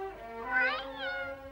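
A single drawn-out cartoon cat meow rises and falls clearly over a low steady hum, close and fairly loud.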